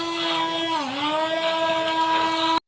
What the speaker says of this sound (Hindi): इसको हम हैंड ब्लेंडर से ग्राइंड कर लेंगे।